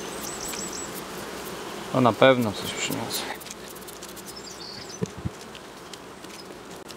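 Honey bees buzz around hive frames in a Masurian apiary, a continuous close hum with someone speaking briefly over it partway through.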